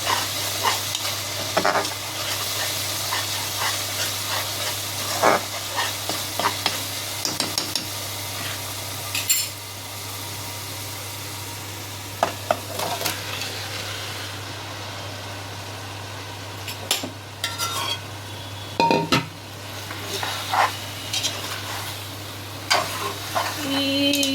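Chicken in masala frying and being stirred in a pan, home-style curry cooking. A steady sizzle runs throughout with repeated scraping and clinking stirs at irregular intervals, close and moderately loud, over a constant low hum.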